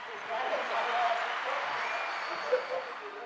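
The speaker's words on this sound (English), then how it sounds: "Let's give him a round of applause for that." A round of applause from the audience at an IFPA pinball tournament semi-final, a moderate wash of clapping from a crowd heard at some distance, steady and fairly soft throughout.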